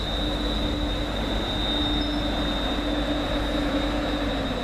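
A Class 360 electric passenger train arriving at Colchester station rumbles steadily nearby with a sustained high-pitched wheel squeal over the roar, loud and continuous, with no talking.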